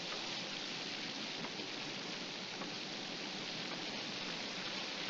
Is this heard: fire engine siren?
no